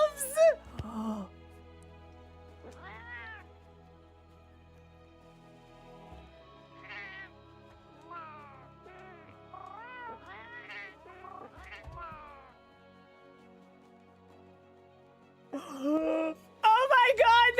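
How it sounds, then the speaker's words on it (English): Cat companions in Monster Hunter World meow repeatedly in short high-pitched calls, some drawn out into wails, under quiet game music, with a burst of louder game sound near the end. "Oh my god, they meow at me!"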